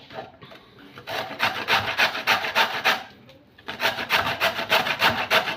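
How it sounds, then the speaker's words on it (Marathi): Carrots being finely grated on a hand grater for gajar halwa: close, rhythmic rasping strokes in quick regular bursts, pausing briefly midway before resuming at the same pace. "तुम्ही मस्तपैकी गाजर किसून घ्या बारीक याच्यामध्ये"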